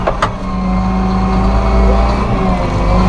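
A Massey Ferguson 7715S six-cylinder row crop tractor with Dyna4 transmission runs close by, its diesel engine producing a steady deep hum with harmonic drone, building slightly in load partway through.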